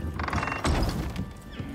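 A horse in the survival game Icarus gives a short, strained whinny at close range over a busy background of clanking and rattling game noise, with no voices.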